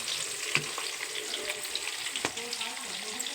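Onions frying in a pan for egg curry, a continuous close sizzle with occasional spatula taps and clicks.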